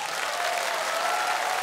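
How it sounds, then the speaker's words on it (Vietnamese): Dense audience applause for a female singer at a Vietnamese music show, a steady, even roar of many hands clapping, loud and sustained without pause. "Một tràng pháo tay nữa cho chị Tư của chúng ta được không ạ?"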